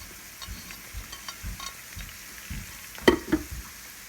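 Green chilies fry gently with crushed garlic and ginger and onion in a pan, a soft sizzle under slow, regular stirring scrapes, quiet and close, with one sharper clink of the spoon near the end.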